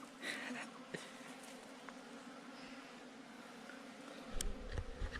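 Wild bees buzz around a honey nest in a forest, a faint continuous droning hum with a few louder close passes, and soft human sounds in the background.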